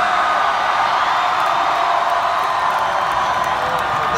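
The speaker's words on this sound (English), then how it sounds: "since this is the loudest motherfucking crowd" A loud concert crowd at a show in Boston roars and cheers continuously, a dense, sustained wall of shouting and whooping from a large audience.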